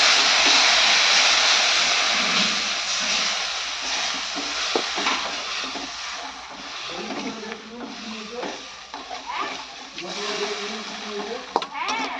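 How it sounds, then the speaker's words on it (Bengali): Spicy fish curry sauce boils and bubbles in a pan with a soft, steady simmering hiss, while a voice speaks over it and a few faint clinks sound near the end. "এই দেখতে পাচ্ছেন ঝালটা ফুটছে"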